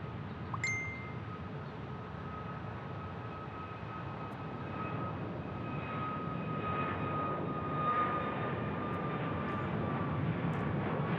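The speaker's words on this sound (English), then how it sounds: "Fairly light 737 MAX." A lightly loaded Boeing 737 MAX jet at Phoenix Sky Harbor Airport gives a steady, broad engine roar from a distance that builds slightly, with a brief ding near the start.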